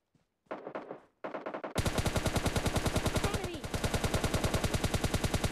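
Rapid automatic gunfire in PUBG Mobile Lite: a few short bursts, then a long, steady stream of evenly spaced, loud shots that continues without pause to the end.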